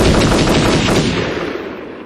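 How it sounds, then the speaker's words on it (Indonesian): Loud gunfire sound effect in a school play about a Dutch colonial shooting, a dense burst of rapid shots blending into a roaring blast that decays over about two seconds, with no talk. "Belanda langsung menyerang dengan cara menembakkan peluru ke arah kepala."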